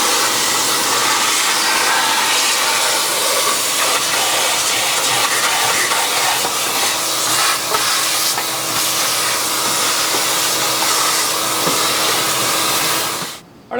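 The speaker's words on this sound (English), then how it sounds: "I'm going to vacuum it as good as I can on all these racks, the inside, get the grease pan." A shop vac cleans the inside, racks, grease pan and firebox of a smoker grill, giving a loud, steady, close hissing roar that runs without a break and cuts off abruptly at the end.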